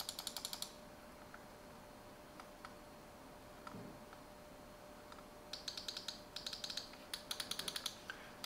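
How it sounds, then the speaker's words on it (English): Rapid, light plastic clicks from a Silvercrest gaming mouse button, coming in quick bursts at the start and again toward the end with a quiet gap between, close and faint over a low background hum. "Clicks."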